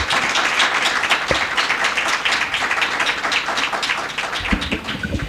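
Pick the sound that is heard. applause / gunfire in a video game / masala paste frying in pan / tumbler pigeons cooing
applause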